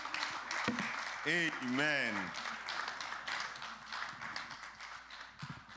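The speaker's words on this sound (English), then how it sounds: "A round of applause." A church congregation breaks into applause during a service, scattered clapping rising beneath a sung exclamation from a voice and continuing as a patter after it.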